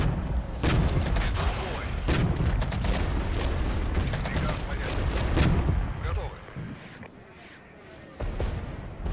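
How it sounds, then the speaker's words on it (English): Artillery barrage in the strategy game Regiments: dense, overlapping booms and rumbling blasts pound almost continuously, thinning to scattered distant thuds near the end. "Let's drop an artillery barrage on this lot."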